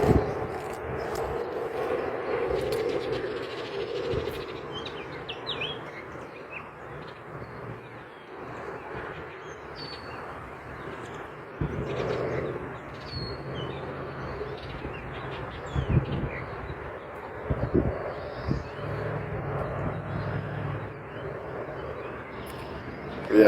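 Birds sing and call outdoors in a lush green, forest-like area, a steady faint chorus of chirps and coos under a continuous low background hum, with no talking.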